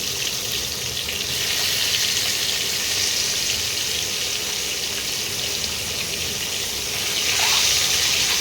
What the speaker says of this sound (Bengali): আলুগুলোও একটু ভেজে নিচ্ছি।